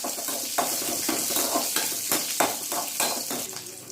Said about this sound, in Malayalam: നാല് ചെറിയ ഉള്ളി ചെറുതാക്കി മുറിച്ചു അതും കൂടി ചേർക്കാം ചേർത്ത് ഒന്ന് വഴറ്റി കൊടുക്കാം